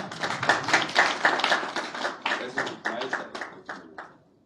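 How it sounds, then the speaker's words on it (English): Audience clapping at a Dhaka concert by a Pakistani band, a dense run of quick claps that thins and fades toward the end, mixed with some voices. "Clap."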